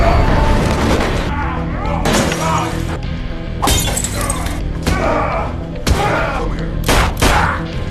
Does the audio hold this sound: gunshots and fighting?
yes